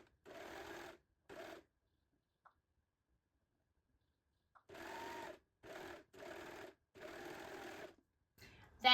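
Overlock sewing machine stitching vintage satin scrunchies, running in several short bursts of steady whirring separated by pauses, close and fairly quiet with no talk.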